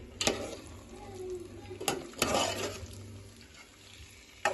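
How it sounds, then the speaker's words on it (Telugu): Egg curry being stirred gently in a pan: soft scraping and a few sharp spoon knocks against the metal over a low, quiet simmer, with no talk. "ఇప్పుడు బాగా కలుపుకోవాలి, మెల్లగా కలుపుకోవాలి,"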